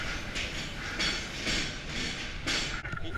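Yangon Circle Line train rolling along, with a continuous rhythmic clatter and periodic bursts of wheel and carriage noise, heard up close for a few seconds.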